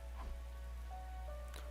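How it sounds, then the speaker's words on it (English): Heavy rain pelting a rooftop in the video game The Hundred Line, a steady dense patter with faint higher splashes, heard alone without talk. "Raindrops were pelting the rooftop all around me, producing a relentless rhythmic beat."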